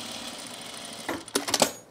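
A sewing machine stitches the last seam of a men's shirt: quiet background hum at first, then a short burst of rapid mechanical clatter near the end.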